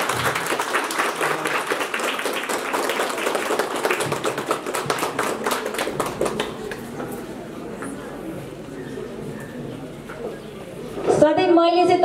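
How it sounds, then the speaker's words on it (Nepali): An audience at a unisex salon and beauty studio grand opening claps in a dense burst that tapers off over several seconds, followed by quieter room murmur and a brief clatter near the end. "एकचोटि मिठो ताली बजाइदिनु"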